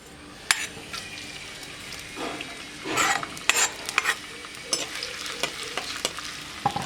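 Chopped garlic and ginger hit hot oil left from frying fish, giving a crackling sizzle with sharp spatters and bursts of stirring, loud and close, rising and falling in irregular waves.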